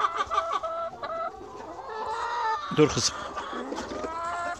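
Hens cluck and chatter in a coop as eggs are collected, with one louder squawk partway through and a person speaking briefly nearby.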